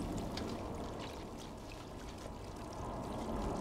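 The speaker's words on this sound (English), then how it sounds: "Some water." Water pouring in the Stray video game, a soft continuous splashing trickle with a faint low rumble underneath, steady and fairly quiet throughout.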